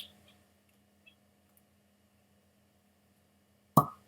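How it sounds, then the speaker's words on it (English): A composite cork pops out of a poitin spirit bottle with a single short, sharp release near the end, preceded by near silence and a couple of faint small clicks. "The top comes off like so. The cork comes out"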